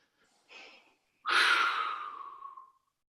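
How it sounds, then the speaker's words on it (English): Slow, deep breathing at a group session, with a short inhale followed by a longer, louder exhale that trails off, close and unhurried. "Let's take a few deep breaths, my friends."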